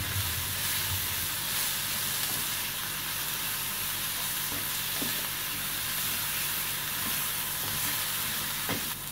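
Kasuri methi, chopped coriander leaves and green chilies frying in a pan for Mumbai-style pav bhaji, a continuous close sizzle with faint stirring scrapes, no voices.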